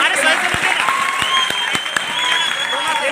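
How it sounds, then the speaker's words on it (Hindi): A crowd claps hard at a teaching centre gathering, with broadband applause steady across the clip and a few sharp louder claps standing out, and voices mixed in underneath. "एक जोरदार ताली ऐसी में"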